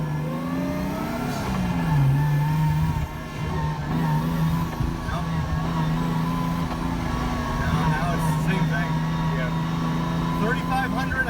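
A 1JZ-swapped FC RX7 drift car is driven and accelerated, its engine revving up and holding a strained, droning pitch close by, with some talking and rattles mixed in.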